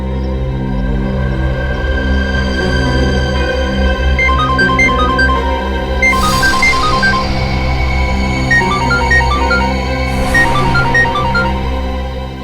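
A mobile phone ringtone plays a repeating electronic melody on a dramatic crime-drama set, steady and clear over a low sustained background hum, with no one speaking.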